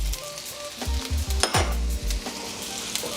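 Onions and celery stir-fry over high heat for chicken chow mein, a close, crackling sizzle broken by a quick series of spatula scrapes and metal clanks against the pan, with no voices.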